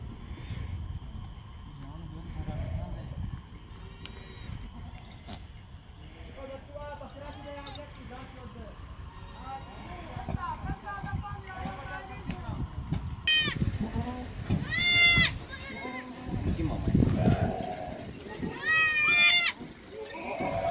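Goats bleat repeatedly on a farm in Pakistan, several animals calling at moderate distance in overlapping cries, with people talking and general outdoor background noise throughout.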